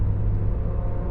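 A Nissan car speeding past on the road, heard as a steady, loud low engine and road rumble that holds evenly throughout the short stretch.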